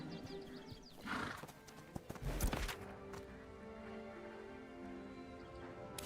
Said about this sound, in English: And I'm going to hop on my horse.